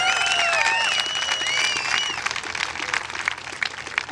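Applause from an audience at an opening ceremony rises and fades over a few seconds, with a loud whistle sweeping over the clapping near the start and a crowd murmur underneath.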